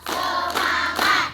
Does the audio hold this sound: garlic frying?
no